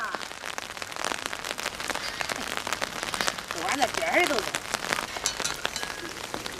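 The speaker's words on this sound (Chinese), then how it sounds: "今个咋下那大雨啊" Heavy rain patters densely and continuously on surfaces in a rural yard, with close crackling drops throughout while someone talks briefly over it.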